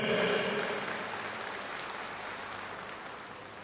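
An audience claps through a speech by Archbishop Andrews Thazhath at St Thomas College, Thrissur. The dense, steady applause from a large hall crowd fades slightly and carries on without talk.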